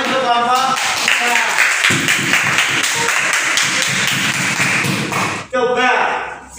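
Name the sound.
classroom applause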